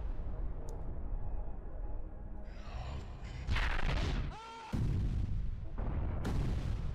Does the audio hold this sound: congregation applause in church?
no